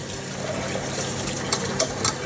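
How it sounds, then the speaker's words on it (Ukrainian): Water runs steadily from a tap over rice in a bowl, with a few soft splashes and grainy swishing as it is rinsed thoroughly until the water runs clear. "Треба дуже ретельно промити рис, щоб вода була як сльоза."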